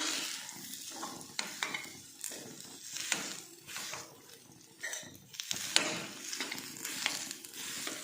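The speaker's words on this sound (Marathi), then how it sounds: "आणि पूर्ण छान आता ही भाजून घ्यायची आहे आपल्याला खजूर." Dates roast in a pan with a little fat, giving a soft sizzle under repeated scraping and stirring strokes of a spoon against the pan, close and fairly quiet.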